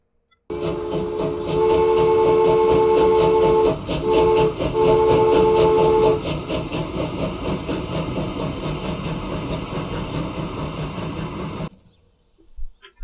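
A video game train in Transport Fever 2 rumbles steadily along the track with a loud, sustained horn blast sounding twice over the clatter before the noise cuts off abruptly.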